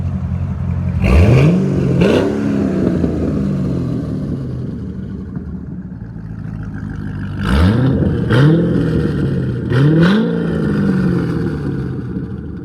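Straight-piped 2007 Chevy Corvette Z06 with a 7.0L V8 idling loudly and close, with three sharp rising revs blipping over the rumble before it falls back to a steady idle.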